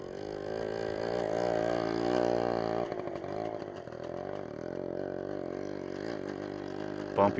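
Yamaha RX 100 two-stroke motorcycle ridden over a bumpy village road in Yemen with worn-out suspension; its close, buzzy engine drones steadily, revs swelling and dipping, with no voices.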